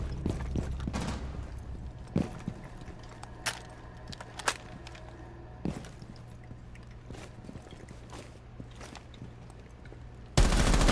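Sharp single gunshots in Rainbow Six Siege, spaced irregularly across a quiet background with a low steady hum, ending in a louder burst of noise.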